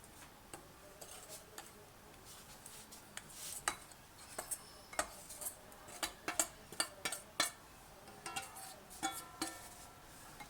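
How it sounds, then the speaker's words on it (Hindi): A spoon stirs flour and cornflour together in a bowl while making a spiral potato snack, giving a quick run of light, close clinks and taps that grow busier through the middle. "इनको अच्छी तरह से मिक्स कर लेंगे।"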